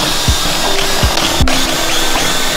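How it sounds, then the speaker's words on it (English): A power drill bores binding mounting holes into a ski through a jig, giving several short, sharp bursts of motor whine and grinding, one after another and close by, with no voices. "that's the drilling"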